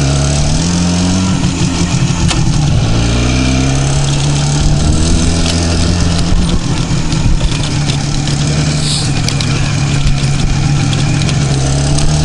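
An IZh Jupiter 5 motorcycle being ridden, its two-stroke engine droning loud and steady throughout with slight shifts in pitch, up close and with wind noise, no talking.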